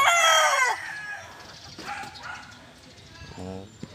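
A young rooster crows in a backyard, one harmonic call at the start, followed by fainter clucking and a second short crow-like burst near the end, over low background noise.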